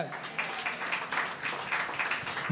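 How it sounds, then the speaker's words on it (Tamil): Church congregation clapping in thanks to God during a sermon, a steady wash of mid-level applause with rhythmic surges throughout, no talking over it. "திருச்சபையை கைத்தட்டி ஆண்டவருக்கு நன்றி சொல்லுங்க"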